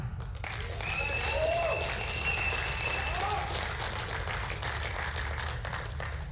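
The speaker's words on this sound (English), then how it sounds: "a big round of applause for James Vang" An audience applauds at a medal ceremony during the 2019 USA Powerlifting Open Nationals, with sustained clapping in a large hall and an announcer's voice over the PA.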